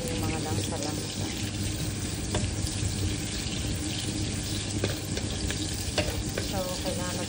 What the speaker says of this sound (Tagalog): Isayin na natin hanggang maging golden brown siya.